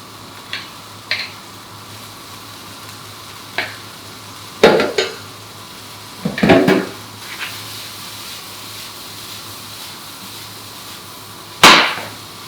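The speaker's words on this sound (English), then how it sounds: "let them fry so that they're getting a little bit brown" Spaetzle fry in a pan with a steady sizzle, broken by several sharp clattering shakes and scrapes of the pan, one especially loud near the end, close and with no voices.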